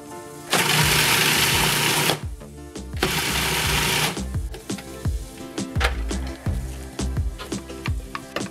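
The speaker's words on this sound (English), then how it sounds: "Gonna pulse for about 3-4 seconds on and off, scrape the sides about 2 or 3 times throughout." A food processor pulses ingredients with olive oil, giving two loud whirring bursts of a second or two each, then a run of rapid short pulses with the blade stopping and starting.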